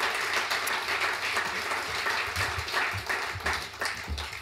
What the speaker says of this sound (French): j'aimerais que vous fassiez un tonnerre d'applaudissements